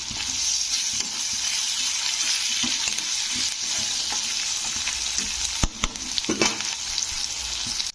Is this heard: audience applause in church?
no